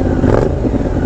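A Honda Rebel 1100 motorcycle engine idling and revving up close, a loud, rough low rumble with brief rises in pitch.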